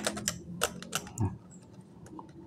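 A laptop bottom cover being pressed back into place after a RAM upgrade, heard as a quick series of close plastic clicks and snaps, then a softer thump, with no talking.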